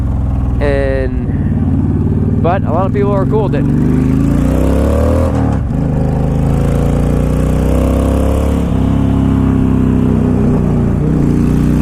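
A motorcycle with loud exhaust pipes idles and revs with a throaty exhaust, engine rumbling steadily while someone talks over it.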